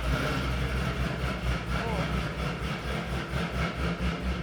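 A Camaro's naturally aspirated engine idles steadily while warming up, with a low, continuous rumble, close by and unchanging, with faint movement sounds over it.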